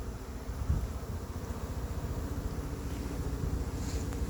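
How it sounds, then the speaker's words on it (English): Honey bees hum over a frame lifted from a hive during a July beekeeping check, a steady, low droning buzz that stays fairly close and even throughout, with a slight rise near the start. "Got a up. whole lot of bees on it"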